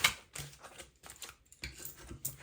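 Tarot cards drawn from a deck: a run of crisp, close card slides and taps in quick irregular bursts, separated by short quiet gaps, with no talk.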